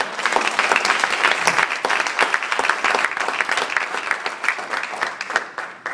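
Church congregation applauding together in a steady, dense burst of clapping that fills the whole stretch at close range, with no talk over it.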